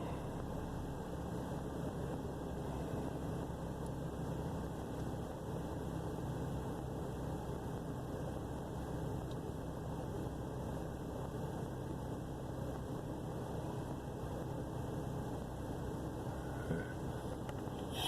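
A troubled truck engine idles low, producing a steady, dull rumble that holds unchanged for the whole stretch with no voices.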